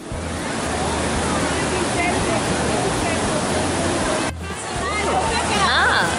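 A waterfall roars steadily and loudly, a continuous rushing wash of falling water, with a brief dip before the roar resumes.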